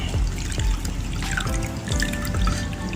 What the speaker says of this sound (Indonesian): Mainboard ini kita siram dengan air, kita bilas